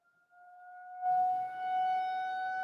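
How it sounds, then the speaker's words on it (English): Tornado warning sirens sound across South Lyon: a faint steady wail that swells to a loud, sustained tone after about a second and holds with a slight waver, with no voices. "It's the tornado sirens going off here in South Lyon."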